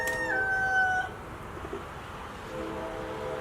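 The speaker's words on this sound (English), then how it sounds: "You can hear the crow." A rooster crows from inside a backyard chicken coop, one clear fairly close cock-a-doodle-doo at the start, then faint outdoor ambience.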